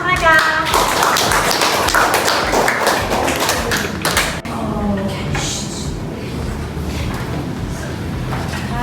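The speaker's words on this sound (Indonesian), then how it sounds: "Beri aplaus untuk kelompok mereka." An audience applauds a student group after a classroom presentation, dense steady clapping over the first few seconds, then fading into room noise and talking.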